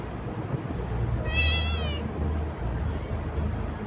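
A cat gives a single clear, fairly close meow, rising and falling, over low background noise.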